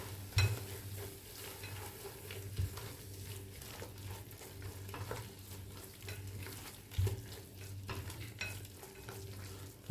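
Garam masala and chilli powder sauté in a pan for Thalassery-style prawn rice, with a soft continuous sizzle under repeated scraping stirs and occasional louder spoon knocks against the pan, close up and with no talking.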